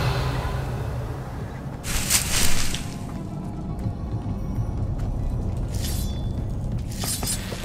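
Incendio fire spell cast in Hogwarts Legacy, with a sharp crackling burst of magic, then two shorter bright bursts, over a steady low game ambience, no talk.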